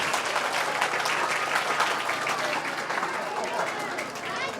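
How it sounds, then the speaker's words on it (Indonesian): An audience at an Isra Mi'raj religious talk at an Islamic boarding school breaks into sustained applause, dense, even clapping from a large crowd filling the room throughout, with a few voices mixed in. "Tepuk tangan dulu sekali lagi untuk kita semua."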